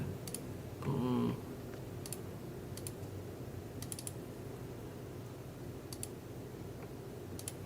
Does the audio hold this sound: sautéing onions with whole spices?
no